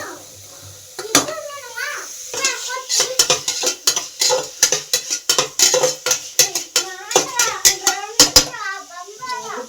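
Carrots, beans, potatoes and capsicum being stirred in a pot for vegetable kichidi: rhythmic metallic clanks and scrapes of a spoon against the pot, close and fairly loud, with a voice heard intermittently.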